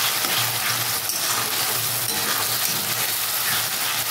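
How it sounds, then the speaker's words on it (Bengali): Tomato paste frying with onion, ginger and garlic for chicken curry, a steady close sizzle and crackle that holds evenly throughout, with faint stirring clinks and a low hum. "দিয়ে আবারও একটু আমি এটা ফ্রাই করে নেব বেশ কিছুক্ষণ"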